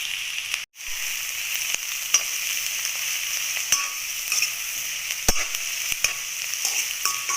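Onions and green chillies frying in hot oil for chicken curry, a constant close sizzle with occasional sharp spits and stirring clicks throughout.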